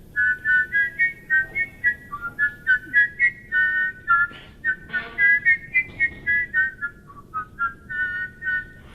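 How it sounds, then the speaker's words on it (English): A clear, bright whistled melody with two tones sounding together, phrased in short rhythmic notes, close and steady over a soft background. "I heard you doing a two-tone whistling."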